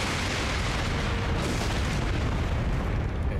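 A thrown bomb in the game Elden Ring detonates as a sustained, heavy boom with a rumbling, noisy wash, loud and close throughout, with no speech.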